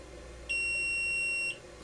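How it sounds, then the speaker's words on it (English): A single steady electronic beep from a Kokoni EC2 3D printer, clear and high-pitched, lasting about a second against quiet room noise. "Okay, it beeped."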